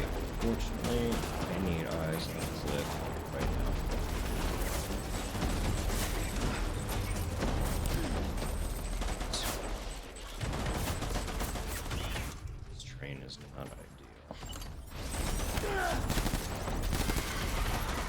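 Sustained gunfire from a game erupts after an order to open fire: dense, overlapping bursts and shots run for around eighteen seconds at steady loudness, with a short lull near the middle before the firing resumes.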